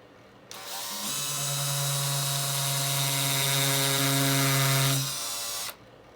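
An electric drill drilling screw holes for guitar tuners whirs steadily for about five seconds at a constant high-pitched drone, then cuts off abruptly.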